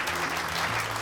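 A short burst of dense audience applause, many hands clapping together at a steady, moderate level.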